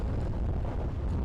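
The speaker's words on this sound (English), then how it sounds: "Extremely windy conditions." Strong wind buffets the microphone at an outdoor cricket ground in Wixom, producing a steady, loud low rumble with no pauses and no voices.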